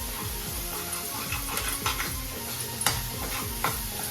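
Chicken liver frying in a pan, a dense close sizzle with sharp pops and spatters breaking out irregularly, plus a low rhythmic ticking of stirring underneath, no voices.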